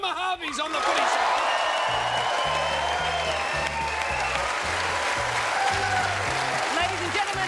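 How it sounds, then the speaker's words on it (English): Studio audience on an Australian football TV show applauds and cheers steadily for a visiting Kangaroos player, loud dense clapping with whoops running the whole time, a presenter's voice heard over it. "Put your hands together for the star from the Kangaroos, Boomer Harvey's on the Footy Show."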